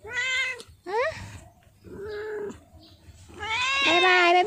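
A pet cat meows repeatedly in a close, loud, drawn-out way, with several separate cries including a longer plaintive yowl at the end; a faint low hum sits underneath.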